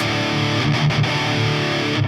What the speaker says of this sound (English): Pretty good distortion sound.